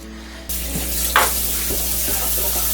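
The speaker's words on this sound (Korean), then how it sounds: "도너츠 모양으로 구멍을 하나 만들어서 약한 불로 계속적으로 끓여주면 되겠습니다" Beef consommé simmers over low heat in a pot with a doughnut-shaped hole in the center, giving a steady bubbling hiss with a brief sharper sizzle near the middle and a low background hum.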